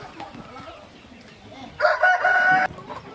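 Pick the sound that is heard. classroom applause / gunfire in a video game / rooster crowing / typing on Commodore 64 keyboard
rooster crowing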